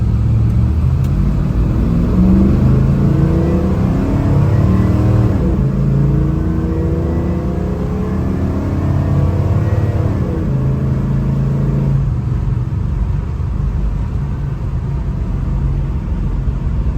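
A 1972 Chevrolet Nova SS, numbers matching, pulls hard through its gears while driving in traffic, a loud, continuous engine roar that rises in pitch, drops at each shift and then settles into a steadier drone.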